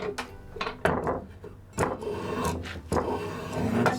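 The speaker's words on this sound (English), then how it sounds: "So I'm going to start at the top with my round bottom spoke shave." A round-bottom spokeshave shaves and eases the corner of a wooden handle clamped in a vise, giving a series of short, close scraping strokes with small gaps between them.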